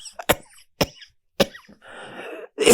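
A person coughs three times in quick, sharp bursts, close to the mic, followed by a rough throat-clearing rasp.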